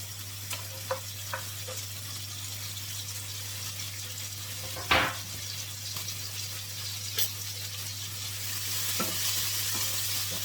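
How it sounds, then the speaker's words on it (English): Onion, chili, garlic and tomatoes frying with soya pieces for a blackeye bean and plantain dish, a constant sizzle over a low steady hum, broken by a sharp utensil knock and scattered light clatter. "I'm going to go in and add the onion, the chili, the garlic, and the tomatoes."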